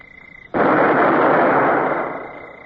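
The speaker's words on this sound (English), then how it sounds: "Well, I believe we can open fire, Mr. Davy." A ship's cannon firing in a naval radio drama, one loud sudden blast that roars and rumbles for over a second before fading, heard alone.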